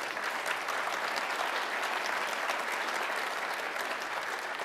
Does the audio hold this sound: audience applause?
yes